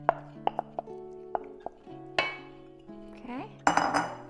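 A pot of Buddha's hand citron cooking with honey is stirred by a wooden spatula, giving scattered light knocks and clinks against the pot over a steady tonal hum.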